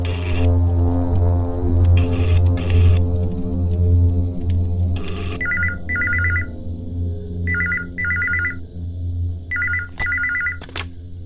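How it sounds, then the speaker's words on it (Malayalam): An unanswered telephone rings repeatedly in a Malayalam action film scene, with steady double-burst rings over a low hum; the ringing grows clearer in the second half and sounds close and moderately loud, with no talk. "കിട്ടിയോ? ഫോൺ എടുക്കുന്നില്ല."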